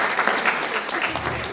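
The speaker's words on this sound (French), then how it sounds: "Je vous demande une bonne main d'applaudissement pour Nicole." A crowd applauds steadily at the official opening of a sports memorabilia exhibition in La Sarre, a dense, even wash of clapping with some voices mixed in.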